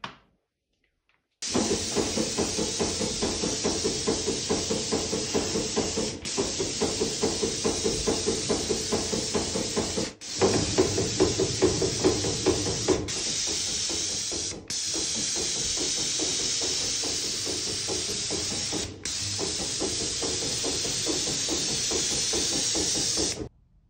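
An airless sprayer pushes diluted emulsion paint at about 1600 psi, giving a loud continuous hiss with a pulsing rhythm, broken by several brief pauses as the trigger is released and pressed again.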